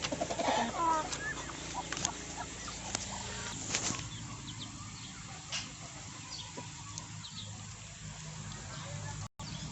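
Chickens on a backyard poultry farm cluck and call intermittently at moderate distance, with outdoor background noise throughout.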